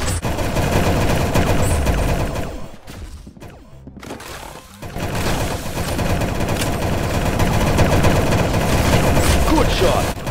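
Repeated gunshots in the Roblox-style shooter game Arsenal: dense, loud rapid-fire bursts with a brief lull midway, under excited talk from players.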